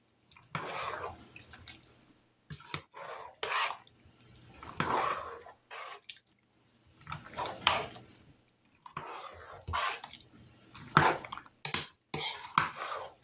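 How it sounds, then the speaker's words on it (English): A big spoon stirs stewed tomatoes in a pot, producing irregular scraping and clinking bursts with wet sloshing in between, close and moderately loud, with no speech. "So we're going to stir this up."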